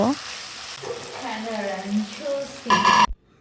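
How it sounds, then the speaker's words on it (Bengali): Beef and broccoli stirred together in a hot pan for a restaurant-style Chinese dish, a steady close sizzle with scraping strokes, ending in a brief sharp clatter before sudden silence. "ব্রকলিটা ভালোভাবে নেড়ে চেড়ে নেব মাংসের সঙ্গে নিয়ে"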